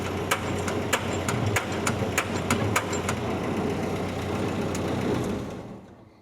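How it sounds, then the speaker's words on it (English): On a Jeep flatfender, an idling engine with a spinning clutch pressure plate hums steadily. A throwout bearing engaging and disengaging adds a run of sharp, evenly spaced clicks, and everything cuts off abruptly near the end. "Pressure plate's spinning, throwout bearing is engaging and disengaging."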